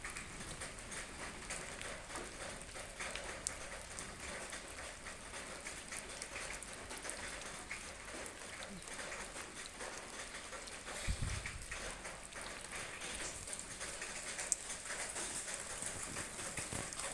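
Steady rain falls and patters on surfaces, a constant hiss with scattered drops and a brief low thump partway through.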